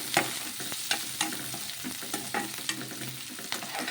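Chopped onions and a green chili sizzle in hot oil with popping mustard seeds, while a spoon scrapes and stirs the pan in regular clacking strokes over a steady frying hiss.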